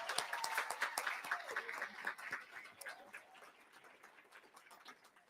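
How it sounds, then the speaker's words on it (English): Audience applause at a meet-the-candidates forum for Ohio governor, a fairly quiet, crackling patter of many hands clapping that gradually thins toward the end. "Let's give them all a round of applause."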